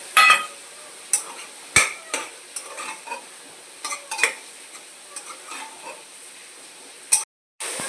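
Soaked soybeans sautéed with masala in a pan, the spoon scraping and knocking in sharp repeated strokes over a soft continuous sizzle, close and fairly loud.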